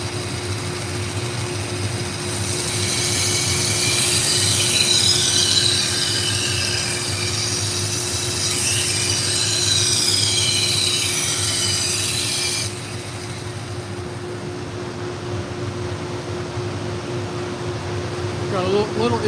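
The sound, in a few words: knife being sharpened on a grinder, edge trailing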